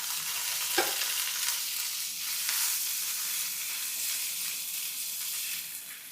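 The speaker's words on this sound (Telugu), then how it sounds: "ఇప్పుడు ఎండుమిర్చి, వెల్లుల్లి రబ్బులు, కస్తూరి మేతి, కరివేపాకు అన్నీ ఒకేసారి వేసి" Dried red chilies, garlic, kasuri methi and curry leaves frying in hot oil for a tamarind chutney tempering, a steady close sizzle with a sharp crackle as ingredients hit the oil, without speech.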